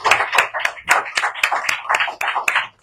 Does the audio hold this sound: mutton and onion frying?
no